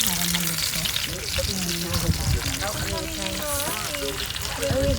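Food frying and grilling at Al Thakira Beach camping ground at night, with a constant loud sizzle and crackle, while people talk over it nearby.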